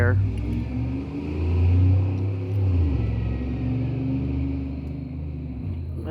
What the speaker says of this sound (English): Whatever vehicle that was did not sound good